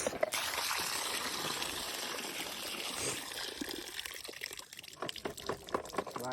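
Water trickles and dribbles from a cracked, leaking sprayer, a soft, close splashing stream that grows more irregular and drippy toward the end, fairly quiet overall.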